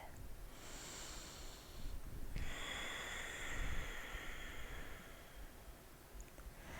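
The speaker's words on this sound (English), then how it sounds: "Stay here and breathe." Slow, audible breathing while holding a yoga pose, long airy inhales and exhales through the nose, close and soft against a quiet room.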